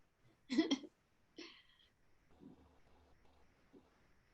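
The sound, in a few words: dog hiccuping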